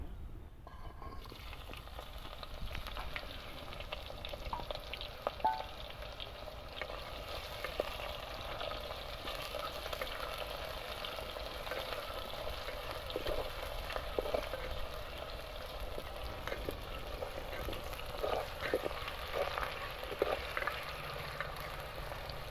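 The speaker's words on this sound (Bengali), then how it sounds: "এখন এর মধ্যে দিয়ে দেবো কুচানো পেঁয়াজ।" Chopped onions fry in hot oil with whole spices (bay leaves, dried chilli, cumin and garam masala) for handi chicken, giving a steady, close sizzle with faint crackles and no talk.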